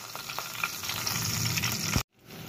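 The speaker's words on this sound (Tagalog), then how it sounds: "Tunawin natin yung butter" Butter melting and sizzling in a frying pan already used for frying beef, a steady close crackle with a few soft clatters, ending in a sudden brief cut to near silence.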